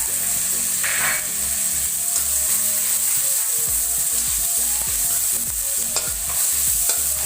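Onions fry with turmeric in fish oil in a pan, a steady close sizzle with repeated stirring scrapes and clacks running throughout, no voices.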